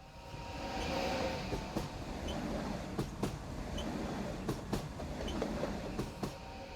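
A train running, heard from inside an AC 2-tier compartment: a steady loud rumble with a regular clickety-clack of wheels over rail joints, repeating every half second or so.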